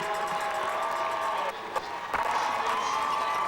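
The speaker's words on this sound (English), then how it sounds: "now hearing the cheers of the crowd" Spectators roar and cheer continuously along the finish stretch of the 2016 Boston Marathon women's race, a dense, steady crowd wash with a few sharper shouts and whoops rising out of it.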